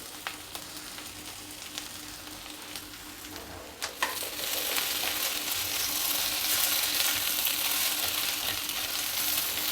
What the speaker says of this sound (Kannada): ಒಗ್ಗರಣೆಯಲ್ಲಿ ಇನ್ನೊಂದು ಎರಡು ನಿಮಿಷ ಹುರಿದ್ರೆ ಬೆಂಡೆಕಾಯಿನ ಚೆನ್ನಾಗಾಗುತ್ತೆ